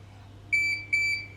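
A Kerong electronic lock, set with a mode card, gives two short, clear, high-pitched electronic beeps in quick succession over a low steady hum.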